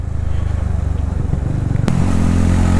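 TVS Ronin 225 motorcycle exhaust on a mountain ride, a steady deep bassy engine drone close up, with a brief sharp click partway through and slightly louder rumble afterward.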